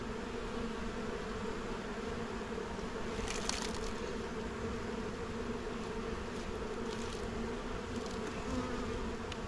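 Steady, dense buzzing of many honeybees around a hive, continuous and close, with a faint rustle now and then.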